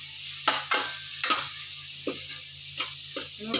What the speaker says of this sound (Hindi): प्याज से हरी मिर्च भुन ली